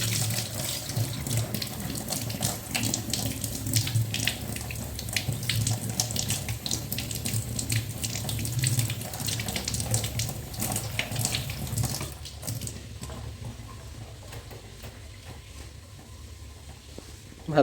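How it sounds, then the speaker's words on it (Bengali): Tap water runs steadily into a sink while holy basil (tulsi) leaves are rinsed under it, a close, continuous splashing rush that thins and softens toward the end. "তুলসী পাতাগুলো প্রথমে ধুয়ে নিই।"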